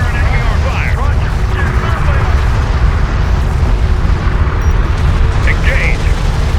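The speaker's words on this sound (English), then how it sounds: "Hostile railguns have opened up." Railgun fire and explosions in Homeworld: Deserts of Kharak, with a continuous rumbling barrage of heavy booms and blasts under radio voices.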